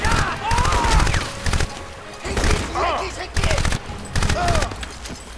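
Gunfire in the video game Crysis, several bursts of rapid automatic shots with short gaps between them, loud and close, with someone talking in between.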